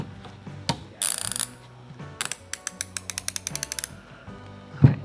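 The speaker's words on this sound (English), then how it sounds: "the Icons are a 90 tooth ratchet compared to the Pittsburgh 72" A Harbor Freight Icon 90-tooth ratchet clicks in quick fine bursts, several separate runs of rapid even ticks, close and crisp, with a brief clunk between them and no talking.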